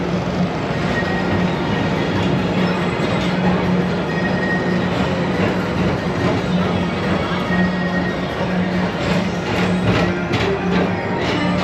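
A TTA PeopleMover ride vehicle glides along its track at Disney's Tomorrowland, giving a steady, close rumbling hum with faint rhythmic clicks and a constant low tone.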